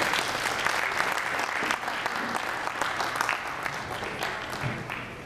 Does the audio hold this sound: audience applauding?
yes